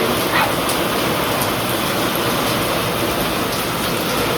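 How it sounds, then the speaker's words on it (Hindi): Heavy rain pouring down in a dense, continuous loud hiss of drops striking surfaces, steady throughout with no talking. "कितनी तेज बारिश आ रही है,"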